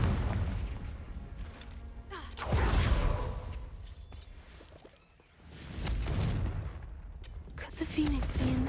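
Confringo blasting spell in a Harry Potter video game: several booming, crackling explosive bursts with whooshing tails, spaced a few seconds apart over a busy combat background, with voices around them.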